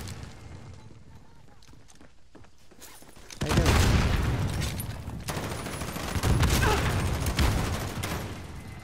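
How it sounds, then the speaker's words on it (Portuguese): Gunfire in the video game Call of Duty: Modern Warfare: rapid bursts of shots, quieter at first, then a loud sustained volley with heavy booming impacts, with occasional voices underneath. "O cara tá atirando."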